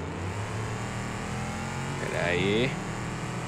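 Game car engine in a BeamNG.drive multiplayer session, driven downhill at full throttle, revving and rising in pitch toward the end over steady engine drone while voices talk throughout.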